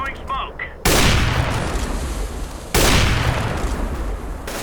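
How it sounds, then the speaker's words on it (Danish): Two sudden bursts of loud, rapid gunfire in CS:GO on the Nuke map, each starting abruptly and sustained for about two seconds, after brief muffled voices. "Det er skud efter mig."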